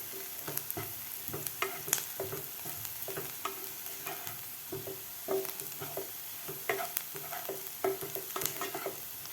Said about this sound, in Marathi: व्यवस्थित फ्राय करून घ्यायचं आहे.